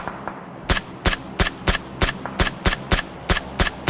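Rapid gunfire in a first-person shooter video game: a string of about a dozen sharp, loud shots at an even, quick rhythm, starting after a short quiet lead-in.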